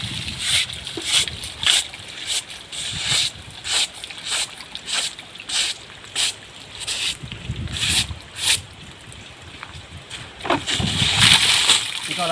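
Water is thrown in rhythmic splashes over an elephant during a skin scrubbing on a cold day, each slosh landing close and distinct, with a brief burst of busier splashing near the end.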